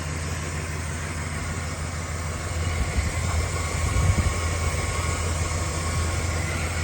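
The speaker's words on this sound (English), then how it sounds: "There's that 318 V8. Very, very smooth running." A 1968 Dodge Polara's 318 V8 idles smoothly under an open hood, a steady low rumble with even tone and a slight swell in the middle, close and alone without talk.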